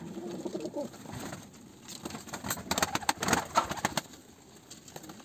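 A male pigeon from Sivas coos in soft, repeated throaty phrases nearby, with some light rustling and faint background noise.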